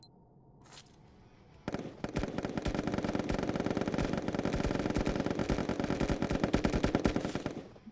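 Rapid video-game gunfire in Pummel Party, a loud, dense, continuous stream of shots that kicks in after a quiet opening and runs to the end, without voices.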